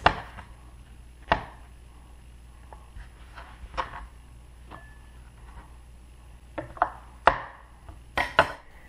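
Vegetables being chopped with a knife on a board, scattered sharp single knocks with quiet gaps, then a quicker cluster of cuts near the end.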